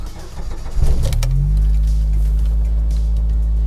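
1995 Jeep Wrangler YJ engine cranking briefly and catching, then settling into a loud, steady, rumbling idle close by, with no voices.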